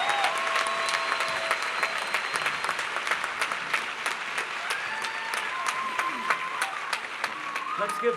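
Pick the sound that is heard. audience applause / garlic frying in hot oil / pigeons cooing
audience applause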